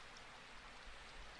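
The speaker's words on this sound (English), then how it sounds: "at least we have this rain" Soft, faint rain falling steadily, a gentle continuous hiss with low rumbling texture and no distinct drops or voices.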